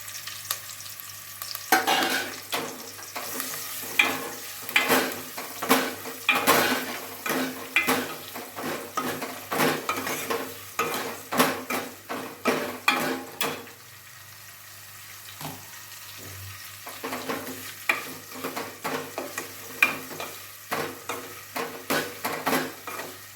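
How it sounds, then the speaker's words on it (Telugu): Onion, green chili and curry leaves frying in hot oil for ginger charu, with steady sizzling crackle and repeated clinks of a spoon stirring against the pan, nearby and fairly loud throughout. "నూనె వేడెక్కిందండి. ఇప్పుడు ఉల్లిపాయ, పచ్చిమిరపకాయ, కరివేపాకు,"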